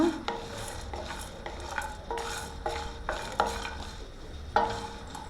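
Brinjal masala curry frying in a pan: a soft continuous sizzle under rhythmic metallic stirring scrapes, about one every half second, close and fairly quiet, without speech.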